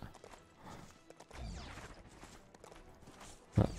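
Quiet, irregular horse hoof clip-clops in the video game LEGO Star Wars: The Skywalker Saga, with shuffling noise and a louder thud near the end.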